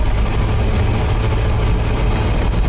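A car engine, an Impala fitted with a new transmission, runs with a loud, steady low rumble close by, holding an even drone throughout with no clear revs or breaks.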